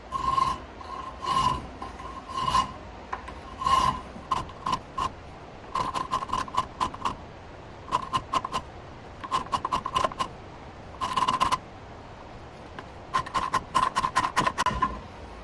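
A hand file rasps across a scrap steel dagger blank in repeated short bursts of back-and-forth strokes, close and crisp, with brief pauses between sets.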